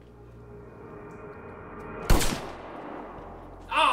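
A single loud, sharp gunshot rings out in the FMV game Bloodshore over a low, steady background hum, and a brief harsher noise follows near the end.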